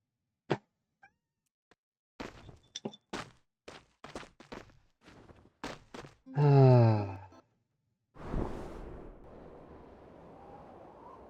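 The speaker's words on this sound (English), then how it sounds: "You meowing is not going to get me to pet you." A house cat lets out a loud, drawn-out meow at close range, following a run of quiet tapping and thumps, with a low rumbling purr-like murmur trailing after.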